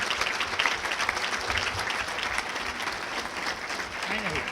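An audience in a hall at a Chelmsford High School hall of fame induction applauds in a continuous, fairly distant wash of many hands, with some voices mixed in.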